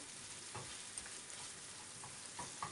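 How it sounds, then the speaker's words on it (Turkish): Sucuk sausage slices fry in a pan with garlic, with a faint steady sizzle and a few soft stirring scrapes as the pieces are turned. "Şöyle bir sucuklarımı da alt üst edeceğim, kavuracağım."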